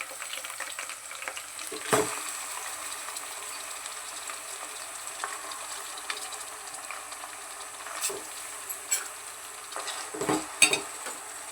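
Minced mutton keema deep-frying in oil, a steady broadband sizzle throughout with occasional louder stirring scrapes and clinks from the pan, no voices.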